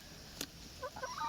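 Backyard chickens from a household flock of five hens give a few short, fairly faint clucks in quick succession over quiet background noise.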